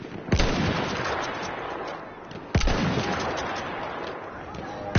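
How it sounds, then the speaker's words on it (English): Battlefield 1 gunfire cracks at a player in sharp, loud bursts, three distinct shots spaced a couple of seconds apart over a constant dense roar of battle noise. "Somebody's shooting at me"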